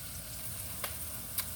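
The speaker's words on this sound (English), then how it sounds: "onions are cooking" Onions frying in a pan, a soft steady sizzle at low level with a couple of faint sharp ticks, no talking.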